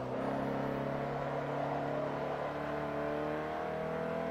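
Mini Cooper engine in the Forza Motorsport 3 racing game, revving steadily with a sustained, loud drone and shifting harmonic tones throughout, no talking.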